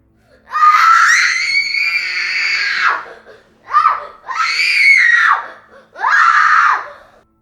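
A child's high-pitched screams and wails come in four bursts, the first long and drawn out, the rest shorter, loud and close.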